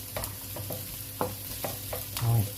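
Green beans drop into a frying pan of garlic for a paella, and a steady close sizzle runs throughout, broken by a few scraping stirs and clinks of the utensil.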